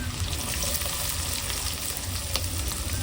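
Onions tipped into hot oil already crackling with mustard seeds, curry leaves, green chilli and ginger for a fish curry, a continuous loud close sizzle and frying hiss that holds steady throughout.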